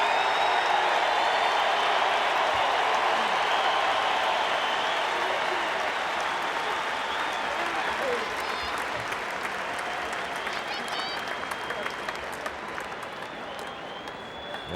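A baseball stadium crowd applauds and cheers in a dense, sustained roar that gradually thins and fades toward the end.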